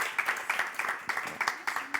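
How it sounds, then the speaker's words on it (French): Brief applause from a small audience at a French live panel broadcast, a handful of distinct, fairly close claps in a loose irregular rhythm with a faint voice underneath. "Un petit applaudissement"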